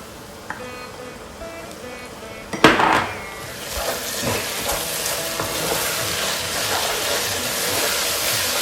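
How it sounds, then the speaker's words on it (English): Ginger garlic paste is stirred into browned onions in a cooking pot for a one-pot lamb biryani, with a steady sizzle of frying under scraping spoon strokes and a sharp clatter near the start. "Give it a nice stir."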